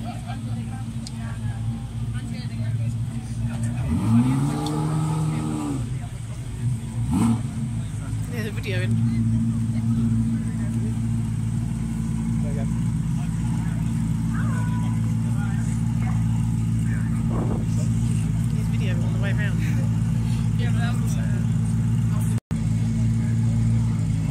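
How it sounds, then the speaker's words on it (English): An RS 4-litre sports car speeds past at a classic and supercar show at Blenheim Palace, its engine note rising and falling as it passes, under a constant drone of background engines and talk. "Mark Brunkle just gone flying by in another RS 4 litre"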